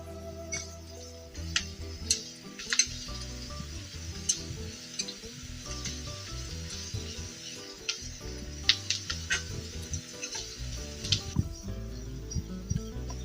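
Onions and green chillies fry in a pan with turmeric for a bitter gourd tamarind stew, giving a steady sizzle under background music, with ticking and scraping as a spoon stirs the mixture.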